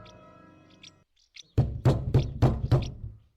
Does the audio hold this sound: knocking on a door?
yes